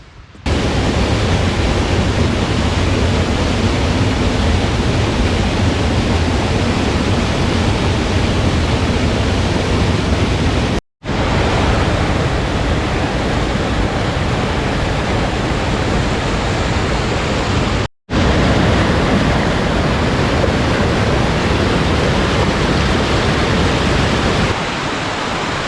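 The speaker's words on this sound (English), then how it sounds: "There's quite a few waterfalls in here." A continuous, loud rush of falling water from a waterfall at Paradise on Mount Rainier, fog around, broken by two brief drops to silence.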